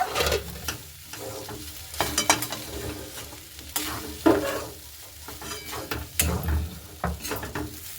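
A spatula scrapes and stirs ingredients frying in a pan, with irregular scraping bursts over a soft sizzle.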